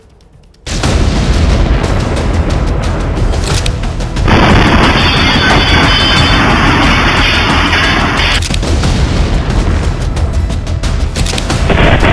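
A sudden, very loud blast at a police station erupts and turns into a sustained, roaring rumble with crackling that stays loud and dense throughout.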